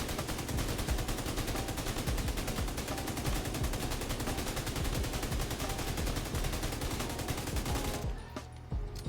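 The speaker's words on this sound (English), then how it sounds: "Now take some shots." Sustained automatic gunfire in the video game The Division 2, a dense, continuous rattle of rapid shots that stays loud and steady for several seconds before cutting off abruptly near the end.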